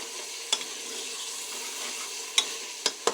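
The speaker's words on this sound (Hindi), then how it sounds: "प्याज को अच्छे से यहाँ पे फ्राई कर लें।" Onions frying in a pan give a steady, soft hiss, broken by a few sharp clicks and taps of a utensil against the pan. No one speaks.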